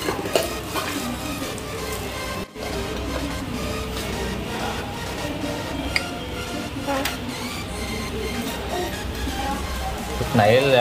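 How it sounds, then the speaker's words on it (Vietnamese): Rice being stir-fried again in a pan while making crispy rice, giving a steady dense sizzle with stirring and scraping throughout, brief dip near the middle, under a busy kitchen background. "Nó cho lên chảo chiên lại lần nữa."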